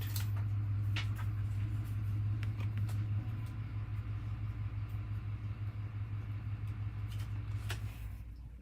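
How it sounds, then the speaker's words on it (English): A low, steady engine rumble of a pickup truck idling nearby, with faint clicks and rattles over it, fading slightly toward the end. "I hear our truck."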